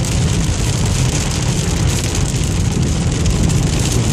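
Steady, loud rain during a hailstorm in Sherman, Texas, a dense broadband wash of falling water with a low rumbling undertone, continuous and close throughout with no voices.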